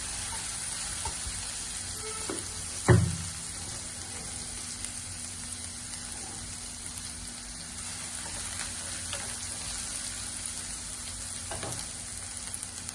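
Ground spices with ginger, garlic and tomato paste fry in a pan for palak paneer, a steady soft sizzle with occasional stirring scrapes and one sharper clack of a spoon against the pan.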